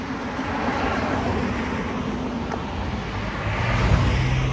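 Cars passing along a roadside strip, a continuous broadband rush of traffic that swells and fades, with a louder vehicle going by near the end, no voices.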